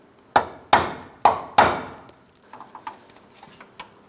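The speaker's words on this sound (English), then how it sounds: "I'm going to continue on with a hammer and punch down along the bottom of this" Four sharp metallic hammer strikes on a punch driving down push clips during radiator replacement on a 2015-2025 Ford Transit 250 3.7L V6, in steady succession, then several lighter, quieter taps, close by with no talking.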